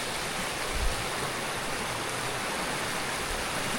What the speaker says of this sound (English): With its own little private waterfall there.